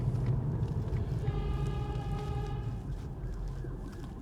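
An ambulance siren on the road, heard from inside a car: a wavering tonal wail rises briefly above the constant rumble of road and engine noise, then fades back under it.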